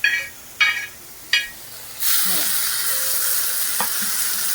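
Beans are tossed into a hot pan and sautéed. First come three sharp clinks of a utensil, then a loud, steady sizzle that carries on to the end, close up, with faint stirring scrapes.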